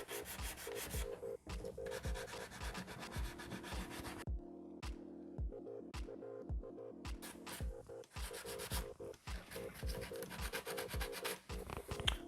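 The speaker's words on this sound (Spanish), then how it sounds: "lijamos en plano para que la superficie no nos haga ninguna curva" Hand sanding of a plastic fairing on a 1989 Honda CBR 1000F motorcycle with 150-grit sandpaper, held flat under a finger: steady, close rasping strokes repeating in a continuous rhythm with brief pauses.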